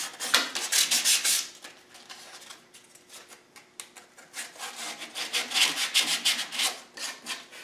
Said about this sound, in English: I'm going to sand that off with some sandpaper